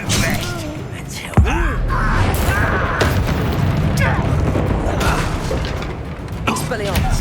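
Casting Arresto Momentum in Hogwarts Legacy produces a sharp magical thump followed by a dense, loud wash of swirling effects and clatter, all under constant game noise.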